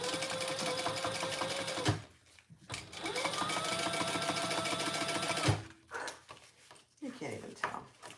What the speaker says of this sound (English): So we're going to turn that and top stitch with that seam underneath.